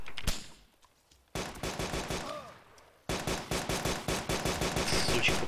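Gunfire in DayZ: a sharp single shot, then two long bursts of rapid automatic fire with regular, crackling reports, loud and close, broken by a brief quiet gap.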